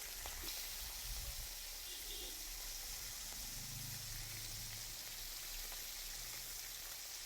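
Three pieces of katla fish at a time fry in oil in a small kadai with a soft, continuous crackling patter like light rain, steady and fairly quiet.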